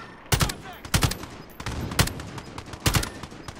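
Gunfire in the video game Warzone: four loud, sharp bursts of a few rapid shots each, spaced about a second apart over a low background hum.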